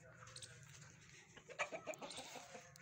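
Chickens cluck softly at close range, a rooster among hens of the Hera breed, with a cluster of short, uneven clucks growing busier toward the end over a quiet background.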